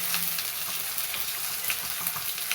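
A continuous sizzle from a paste of onions and tomatoes frying in hot oil, steady and close, with no talk over it.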